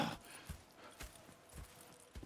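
Horse hooves clip-clopping at a slow, steady walking pace in the video game Red Dead Redemption 2, four or five soft thuds over a quiet background.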